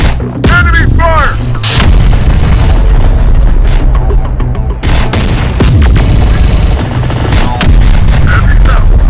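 Loud, continuous battle from the video game Terminator Dark Fate Defiance: booming artillery-like blasts and explosions mixed with sustained gunfire, a dense roar throughout with occasional brief voice callouts underneath.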